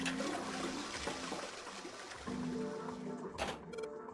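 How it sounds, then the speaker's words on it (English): Toilet flushing in the video game Nine Hours Nine Persons Nine Doors, a steady rushing wash of water that fills the whole stretch, with clicks near the end. "I heard a loud flushing noise"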